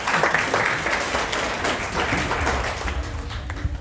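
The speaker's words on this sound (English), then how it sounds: "Let's clap for each other and applaud each other." Audience applause during a final briefing for S.6 candidates, a dense, steady clapping from a large group that fills the room evenly from start to finish with no talking over it.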